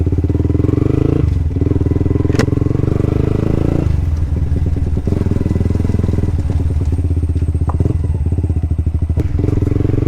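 A Yamaha R15 motorcycle fitted with an Akrapovic exhaust revs and rides, its engine thrumming loud and near with a steady pulsing beat, dipping briefly then picking up again with clattering bursts.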